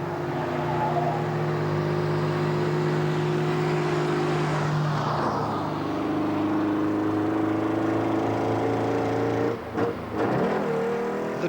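Classic cars, among them an old Mercedes, labor up a steep hill climb on a classic car rally, engines droning and whining steadily before a passing car sweeps by near the end.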